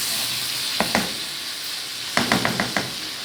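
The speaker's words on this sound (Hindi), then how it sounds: "मैंने इसको अदरक लहसुन के पेस्ट के साथ और अच्छा सा भून लिया है।" Chicken frying in ginger garlic paste in a karahi gives a steady loud sizzle throughout, with a few light knocks of a stirring spoon against the pan partway through.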